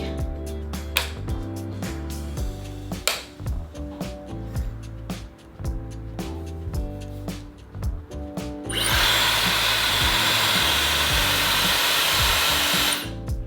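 A Dyson Supersonic hair dryer with its magnetic attachments blows a loud, steady whoosh for about five seconds, after a stretch of music and clattering handling knocks.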